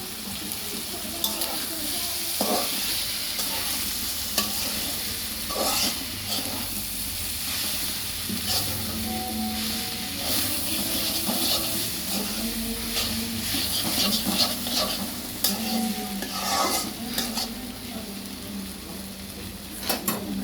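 Boiled noodles being stir-fried in a pan, a continuous hissing sizzle with intermittent scraping and clattering from stirring, with faint background noise throughout.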